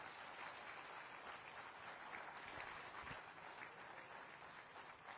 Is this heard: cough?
no